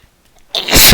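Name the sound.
sneeze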